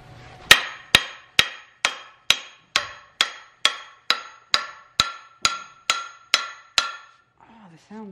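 Fourteen sharp, evenly spaced hammer blows strike the end of a tool handle to drive it into the head. The close, crisp knocks ring briefly, and the tone shifts as the head seats, followed by a faint trailing noise.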